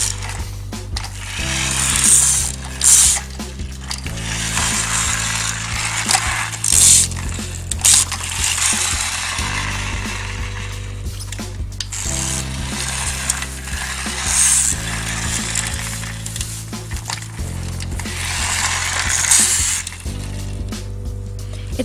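The pullback motor of a toy concrete mixer monster truck ratchets in repeated bursts of fast plastic clicking, close and fairly loud over a steady tonal background, with no talking.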